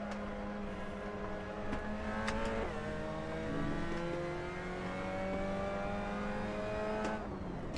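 A race car in Assetto Corsa during ranked online racing downshifts, its engine note climbing and dropping in sharp steps with crisp blips between gears, a loud continuous close-up drone heard alone.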